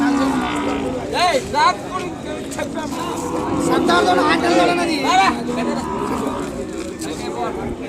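Ongole cattle moo repeatedly in rising, drawn-out calls amid a busy crowd of chatting voices and general hubbub at a cattle market in Kodada.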